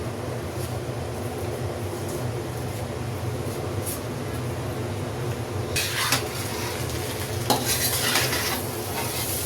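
Noodles are stirred and tossed with soy sauce in a pan, a continuous sizzle with utensil scrapes, and sharper metallic clatters of the spatula against the pan in the last few seconds.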